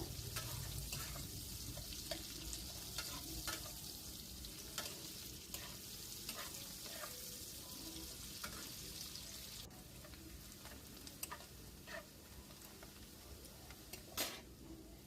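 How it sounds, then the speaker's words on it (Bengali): Chopped onions frying in hot oil with a steady, close sizzle, while a utensil scrapes and stirs through the pan at irregular moments. "দিয়ে পেঁয়াজটাকেও ভালো করে তেলের সাথে একটু নাড়াচাড়া করে ভেজে নেব"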